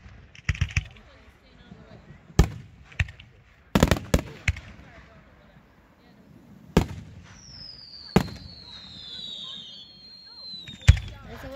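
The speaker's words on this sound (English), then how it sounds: "Did you feel that? 3D fireworks." Fourth of July fireworks at an Independence Day show in Yoncalla burst in scattered sharp booms and crackles at a distance, with a descending whistle near the end, and people talk quietly between the explosions.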